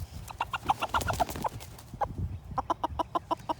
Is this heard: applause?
no